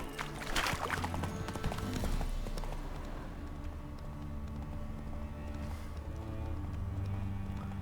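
Horse hooves gallop in The Witcher 3, with a quick, rhythmic clip-clop that is loudest at the start. A low rumbling game soundtrack and ambience continue behind it.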